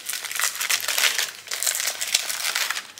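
A package is torn open close by, with dense, continuous crinkling and rustling of paper that comes in uneven bursts for a few seconds. No one talks over it.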